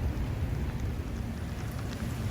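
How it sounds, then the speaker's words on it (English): Steady rain falls across a renovation work site at Civic Center Mall, a dense, even hiss with a low rumble underneath, continuous and moderately faint throughout. "Check out the rain impact on the West Paseo here."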